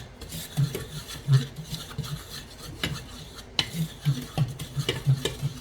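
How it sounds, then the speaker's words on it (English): A dough whisk stirs dry banana bread ingredients in a bowl, making rhythmic scraping and rubbing strokes with light clinks against the bowl, close by and with no talking. "Going to grab my dough whisk. We're going to whisk all this together."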